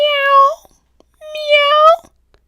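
Two drawn-out meows, close and clear, separated by a brief pause; the calls may be a voice imitating a cat during a children's picture-book reading.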